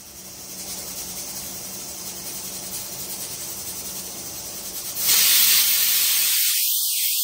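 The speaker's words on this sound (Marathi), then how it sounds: "दुपारी 12 वाजताच मी कुकर लावून घेते, तोपर्यंत भात आणि डाळ होऊन जातो." A pressure cooker cooking dal and rice together hisses steadily, then surges louder into a sharp, intense steam jet near the end.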